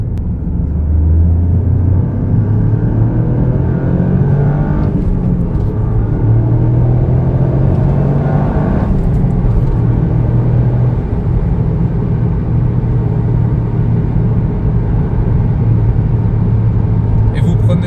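Loud engine drone and road roar from inside a Toyota GR Yaris, the pitch rising and falling as it accelerates through gears at speed.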